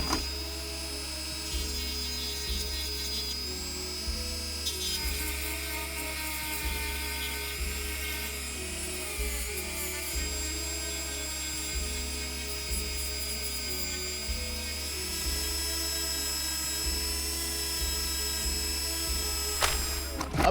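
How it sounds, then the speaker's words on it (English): A Dremel rotary tool fitted with a 60-grit sanding bit grinds down sneaker uppers with a steady high-pitched whine, holding a constant tone close up with slight changes in load throughout. "I'm using a 60 grit drill bit to shave all this off. I'm letting the Dremel do all the work."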